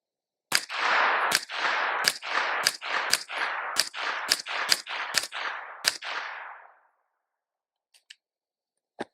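Rifle fitted with an Elfmann ELF match trigger fires about ten sharp, loud shots in quick succession, each with a ringing decay, then two faint clicks after a pause.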